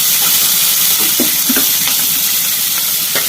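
Tomatoes are tossed into a hot pan for green peas kurma and hiss loudly, a strong steady sizzle with faint stirring scrapes underneath.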